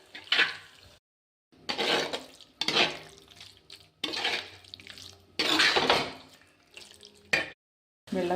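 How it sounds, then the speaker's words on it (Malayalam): Water pours into a pan of prawn curry, several splashing bursts of running water separated by brief silences, close and fairly loud with no talk. "വെള്ളം ഒഴിച്ചു കൊടുക്കാം"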